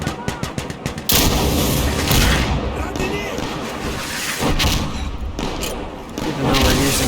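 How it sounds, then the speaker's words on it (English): A rocket-propelled grenade blast in Insurgency Sandstorm, a loud sustained roar of explosion after a burst of rapid gunfire, dense and close, with a voice briefly audible. "Even though we're using the wrong RPG explosive device, it's still a grenade attached to a rocket."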